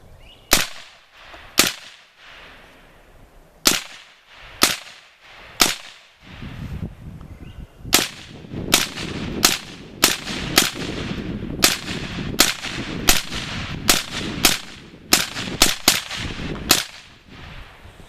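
Kel Tec RDB rifle fired outdoors in a rapid string of about twenty sharp, loud shots, spaced unevenly at first and then coming faster through the middle until the magazine runs dry.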